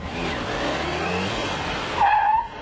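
Campagna T-Rex three-wheeled sports car corners hard with engine drone, then a sharp, loud tire squeal rises near the end, alone without voices.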